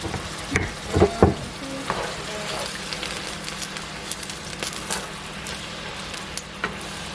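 Vodka bubbling and sizzling in a pan while making pumpkin pasta, a steady low frying hiss with a few louder clattering stirs near the start, close and alone without talk.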